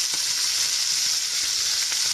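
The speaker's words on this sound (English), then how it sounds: "I'm just searing the lamb in some oil to get it nice and brown all over" Chunks of lamb searing in hot oil in a pan for a jalfrezi curry, a continuous close, bright sizzle with faint soft clicks of the meat shifting.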